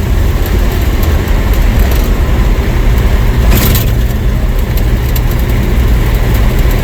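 A 1947 Studebaker car driving at about 35 to 40 mph on a quiet road on a sunny day, giving a steady, loud, continuous engine and road rumble throughout with no speech.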